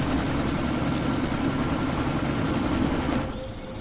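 Helicopter rotors and engine churn steadily and loudly throughout a Deus Ex: Mankind Divided game scene, a dense, continuous whir that dips slightly near the end as if receding or cut.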